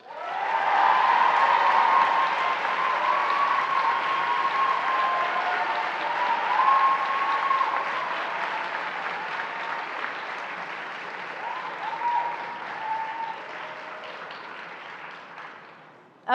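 Sustained audience applause fills a school honors-day ceremony after an award recipient is named, steady and full at first, then gradually thinning toward the end.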